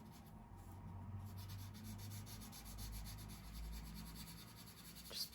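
A blending stump rubs graphite pencil shading across drawing paper, a steady soft scratchy rubbing that continues for several seconds, close and fairly quiet, with a slightly brighter stroke near the end; no one speaks.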